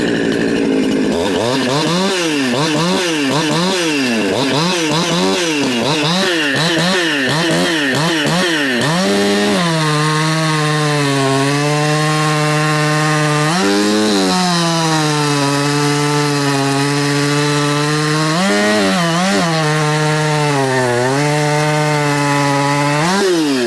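Jonsered 2152 chainsaw, a performance-built saw, revving loud and close, first in rapid bursts, then bogging and screaming through repeated long cuts in wood with brief throttle dips between them; no talk.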